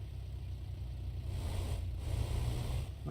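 A tractor engine idles in the farming video game Real Farm, a steady low rumble that holds at a constant level throughout and rises slightly toward the end, with no voices over it.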